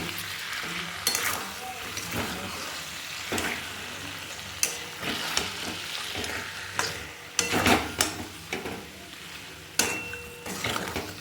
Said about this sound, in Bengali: এবারে ভালো করে কষিয়ে নিচ্ছি সুন্দর করে মশলাটা দিয়ে কষিয়ে নেব